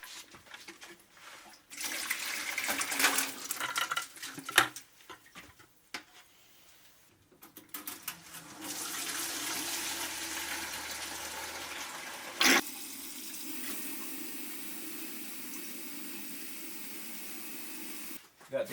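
Water runs steadily from a tap over a batch of about a dozen freshly caught crawfish set to soak, a continuous close gush with brief clunks and pauses between pours.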